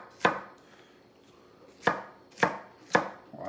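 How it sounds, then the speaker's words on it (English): A sharp cleaver dices vegetables on a board while a chicken Caesar salad is prepared, giving four separate close, crisp chops with pauses between them and no talking. "let's just get over here and do some dicing"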